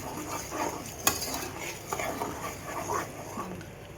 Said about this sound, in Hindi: सूजी भून रहे हैं हम लोग और उसके ऊपर ऑयल आ रहा है